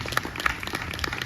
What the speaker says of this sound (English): join me and the band in a big round of applause